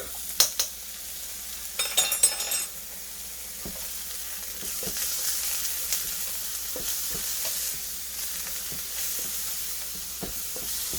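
Garlic and scallion frying in a pan for chicken fried rice, with a steady close sizzle and a cluster of scraping stirring clatters near the start, then intermittent soft scrapes as it keeps cooking.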